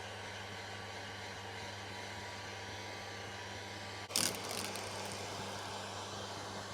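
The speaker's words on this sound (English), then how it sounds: "I use a heat gun and I heat it up" A heat gun hums steadily as it heats old tint on the rear windshield of a Subaru WRX. Partway through, a sharp handling noise and a louder burst of airflow break the quiet, continuous blowing.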